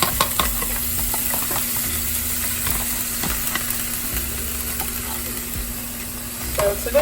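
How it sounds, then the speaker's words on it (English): Scrambled eggs for a burrito cook in a pan with a steady low sizzle, broken by a few soft scrapes and stirs close by, and no talk. "so today I'm making scrambled eggs since I'm making a burrito"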